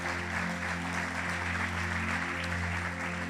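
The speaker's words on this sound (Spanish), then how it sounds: "Dale un fuerte aplauso al Señor." A church congregation applauds, a steady wash of many hands clapping, faint and somewhat distant, continuing evenly without pause.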